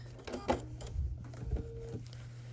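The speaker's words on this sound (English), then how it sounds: "now we'll sew the other top bottom unit onto the remaining side" Sewing machine stitching quilt block units together, a few short whirring bursts of stitching over a steady low hum, fairly close but not loud.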